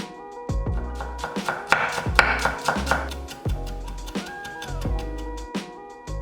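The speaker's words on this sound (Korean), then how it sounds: "그 사이에 통마늘 2개 다져주고" Whole garlic cloves minced with a kitchen knife on a board, a steady run of sharp, close chopping taps with no talking.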